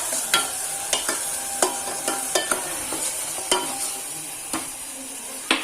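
Sambar with chili powder simmering and sizzling in a pot, stirred with a spoon that clacks against the rim in regular strokes about every half second over a steady close frying hiss.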